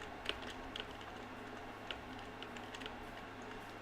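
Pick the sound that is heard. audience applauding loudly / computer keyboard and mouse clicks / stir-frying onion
computer keyboard and mouse clicks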